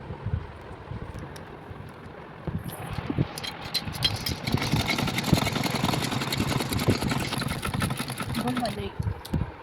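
A sewing machine stitching a plain blouse, a steady motor hum with rapid needle clatter running through most of the clip, close by, while a person talks over it.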